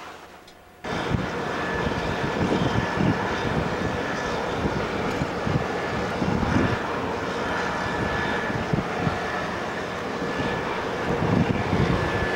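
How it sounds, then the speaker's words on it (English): A fixed-wing airplane lands at an Arctic oil exploration site in bad weather, its engine roar cutting in abruptly and holding loud and steady with wind buffeting the microphone. "So I'm hoping the plane lands."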